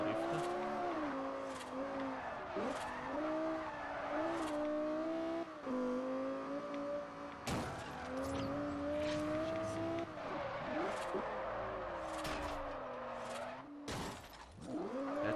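A car in Forza Horizon drifts with a loud, wavering engine whine that rises and falls as it revs, with tire squeal and a few sharp impacts mixed in.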